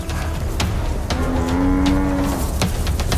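A herd of cattle lows loudly in the African bush as the cows rally against attacking lionesses, one sustained moo rising clearly over a rough, noisy background with a few sharp thuds.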